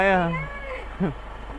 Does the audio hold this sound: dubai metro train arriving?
no